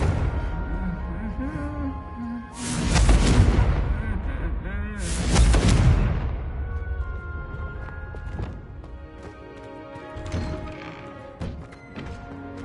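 Confringo blasting spells explode in the Hogwarts Legacy video game, two heavy booming blasts a few seconds apart, each with a roaring burst of noise, set against a continuous musical game soundtrack with lighter thuds afterward.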